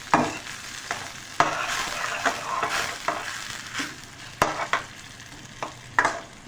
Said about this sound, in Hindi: इसकी इतनी भुनाई कर लेनी है हमने कि टमाटर प्याज सब कुछ अच्छे से मिक्स होके